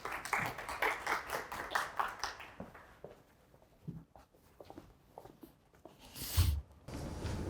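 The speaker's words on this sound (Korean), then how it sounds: "박수를 좀 환영해 주시죠." An audience at a forum session on river basin management claps to welcome a speaker, a burst of dense applause that fades into scattered claps and small room noises before a louder thump.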